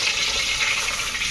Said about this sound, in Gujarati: હવે ઘી નાખી દીધું ને એમાં પાણી